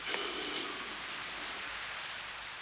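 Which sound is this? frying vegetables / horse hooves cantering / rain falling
rain falling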